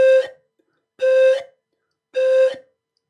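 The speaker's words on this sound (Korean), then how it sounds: "바람 소리 내니까 혀 움직임이 들리시죠?" Three short, airy pan flute tones, each breathy and clear, evenly spaced with silence between, close and moderately loud.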